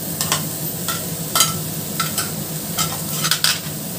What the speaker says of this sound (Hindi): और इसको अच्छे से मिक्स करेंगे